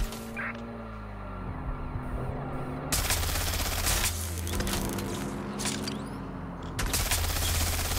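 Gunfire aimed at a vehicle in Watch Dogs Legion online: sustained rapid bursts over an engine drone and a steady electronic tone, loud and continuous with brief pauses.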